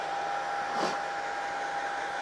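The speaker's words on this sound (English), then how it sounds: "I'm going to take the dryer and blow this dry." Hair dryer blowing steadily to dry a painted NYC Hudson model, a continuous whir with a brief swell as the airflow shifts, close and alone.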